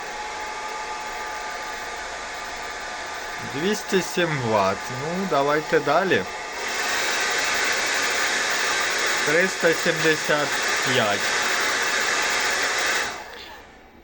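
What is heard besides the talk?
hair dryer running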